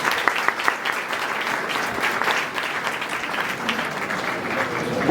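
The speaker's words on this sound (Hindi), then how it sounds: "कृपया तालियों के साथ स्वागत करें।" A seminar audience gives a speaker a warm round of applause on arrival at the stage, with steady, dense clapping that continues evenly from start to finish.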